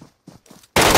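Gunfire in the shooter game Metro Escape: after a stretch of quiet with a few soft scuffs, a sudden loud, dense burst of shots crashes in close and carries through to the end.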